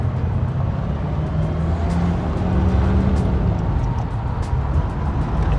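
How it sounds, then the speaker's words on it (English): A 1961 Chevrolet Corvette C1 with its 283 V8 runs smoothly at a steady idle, a deep continuous rumble held close and fairly loud throughout, with no voices. "The 283 is a wonderful engine."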